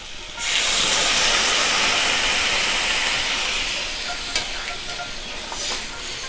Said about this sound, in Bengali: এবারে বন্ধুরা পরিমাণ মতো জল দেব।